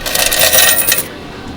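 Coins from the change box of a small vending machine, a loud close jingling and clattering of metal pieces lasting about a second before falling quiet.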